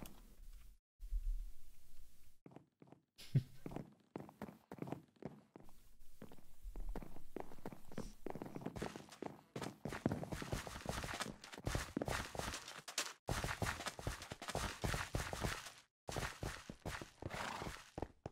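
Horse hooves clip-clop in the video game DragonLand, a steady run of footstep-like thuds that grows busier and denser midway, with faint background sound and no talk.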